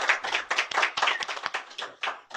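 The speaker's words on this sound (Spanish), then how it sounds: "Un aplauso." A small group claps briefly on stage at a Spanish-language show, a few distinct, fairly close handclaps in a quick uneven rhythm over about two seconds.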